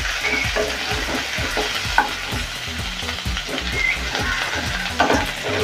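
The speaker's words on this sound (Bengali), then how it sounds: "এই যে লঙ্কাটা দিয়ে দিলাম" Chili peppers hit hot oil in a pan for a Bengali restaurant-style bheja (brain) fry, giving a loud, steady sizzle and crackle with stirring clatter throughout, and no talk.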